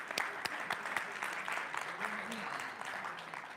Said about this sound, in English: Let's give Heather another round of applause.